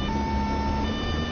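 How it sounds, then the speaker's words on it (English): A steady police siren from the video game Police Simulator 2, a loud, continuous electronic tone with stable pitch and no talking over it. "Then you can change the sound of the sirens."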